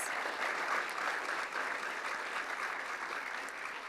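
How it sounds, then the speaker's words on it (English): Audience at the Queensland Literary Awards ceremony giving the judges a round of applause, a continuous, even wash of clapping from a sizeable crowd, steady from start to finish. "Let's give them a round of applause."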